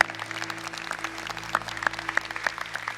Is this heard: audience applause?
yes